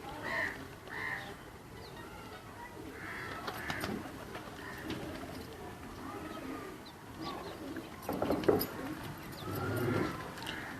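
Tiger pigeons coo softly among other birds in a loft, the low murmuring calls recurring faintly over steady background bird noise, with a louder burst of calls near the end.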